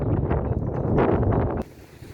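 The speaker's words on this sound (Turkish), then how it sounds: "Bugün çok fena rüzgar var." Strong wind buffets the microphone in loud, rough gusts, then abruptly drops to a quieter rush near the end.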